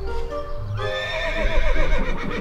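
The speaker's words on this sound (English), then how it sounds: "Where's our horse? It's over here." A horse whinnies nearby, a drawn-out, wavering neigh that rises and falls over a couple of seconds, with faint hoof sounds underneath.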